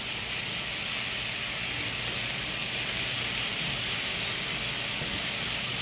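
Meat sizzles in a pan with onion powder and garlic powder for a sesame stir-fry, giving a steady, dense hiss that holds an even level throughout with no pauses.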